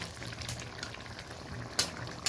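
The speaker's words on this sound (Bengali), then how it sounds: "আরও চার পাঁচ মিনিট আমি একটু ফুটিয়ে নেব" A pan of spicy mourola fish curry, made with large egg-laden fish from a home pond, bubbles at a gentle boil, a soft, close simmer broken by a couple of brief sharper pops.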